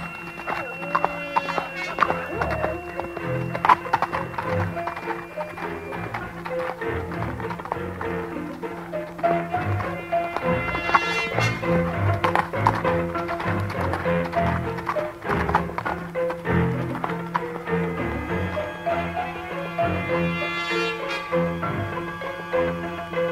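Horses clatter in a steady clip-clop of hooves with occasional neighs, the hoofbeats continuing throughout under voices speaking and shouting in Slovenian in a dramatized Winnetou story.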